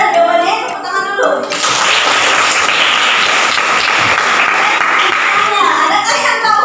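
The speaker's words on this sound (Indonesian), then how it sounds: "Sekarang benar jawabannya, tepuk tangan dulu." Students in a classroom burst into applause, a loud, dense round of clapping that swells after a teacher's voice and fades back into talk.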